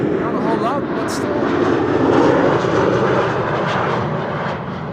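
A Royal Jordanian airliner arriving at Amsterdam Schiphol on a frosty, sunny day produces a swelling engine drone that peaks midway and then eases, with someone talking over it.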